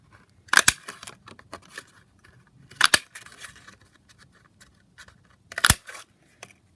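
A circle punch cuts rounds from thick brown card: three sharp, crisp clunks spaced a few seconds apart, close by, with faint handling rustles between them.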